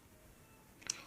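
A single crisp computer mouse click picks the trailing stop option on the Bybit crypto trading platform, short and isolated against a faint, quiet background.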